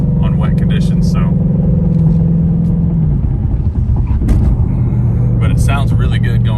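A 2020 Ford Mustang GT 5.0 cruising down a wet highway, its steady low engine drone and loud tyre and road rumble filling the cabin throughout, with a person talking over it.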